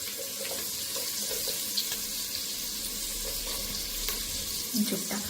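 Chicken pieces frying in a pan for chicken and spinach pasta, with ginger and garlic being added, give a steady, dense sizzling hiss close up, with an occasional soft clink.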